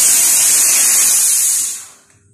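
A professional 10-litre, 5-bar wet and dry steam machine lets out a loud, steady hiss of steam. The hiss holds for about two seconds, then fades away into near silence.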